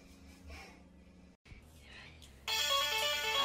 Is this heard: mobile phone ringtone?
yes